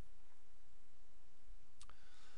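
A computer mouse button clicks a couple of times in quick succession, faint and close, after a stretch of quiet room noise.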